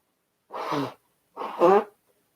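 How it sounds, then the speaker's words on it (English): Two quick sneezes close to the mic, the second a little louder, each a sharp burst separated by a short pause. "I just sneezed."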